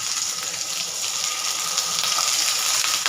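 Paneer frying in a hot pan of oil makes a loud, continuous hiss of sizzling, dense and unbroken from start to finish.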